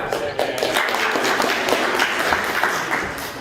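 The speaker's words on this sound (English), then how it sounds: "Round of applause" Dense, steady applause from a theater audience at a year-end improv performance, broad and sustained with scattered individual claps, a few voices faintly mixed in.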